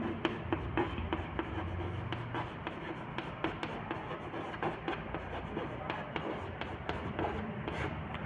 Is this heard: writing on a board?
yes